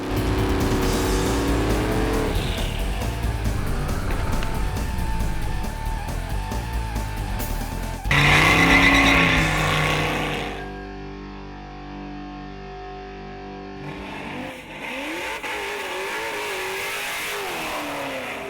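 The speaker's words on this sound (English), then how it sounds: "They are going to be drag racing up and down this street all day and night." Loud street-legal drag racing cars rev and roar as they accelerate on a closed Woodward Avenue, with a brief high-pitched burst midway and the engine noise dipping before surging again.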